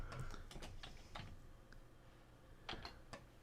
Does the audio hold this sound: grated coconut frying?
no